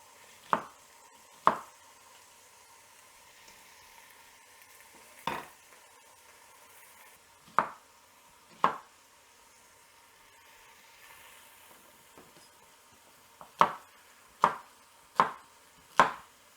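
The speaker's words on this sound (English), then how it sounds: "Just roughly chop them." Onions, celery and carrots for a soup stock are roughly chopped on a board. About a dozen sharp knife thuds land irregularly, some in quick succession, against near silence.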